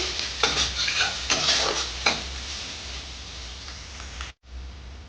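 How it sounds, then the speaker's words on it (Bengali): Green chilies and onion fry in a pan with a steady close sizzle, broken by a few sharp stirring scrapes and clinks early on and a brief cut near the end. "কাঁচা লঙ্কা গুঁড়ি দিয়ে দিলাম দিয়ে দু তিন মিনিট ভেজে নেব লাল করে"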